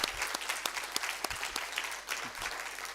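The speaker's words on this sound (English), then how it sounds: "I think a round of applause for all of our speakers." Audience applause for a panel of speakers at a conference session, a full room clapping steadily with a few sharp individual claps standing out and a faint voice underneath.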